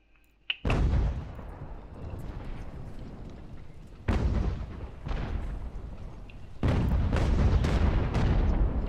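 Three heavy artillery volleys from Revolutionary War cannons in the strategy game Ultimate General: American Revolution, at a fort siege. Each volley opens with a loud booming onset, then long rumbling rolls out, with no talk.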